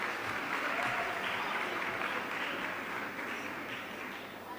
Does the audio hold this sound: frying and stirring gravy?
no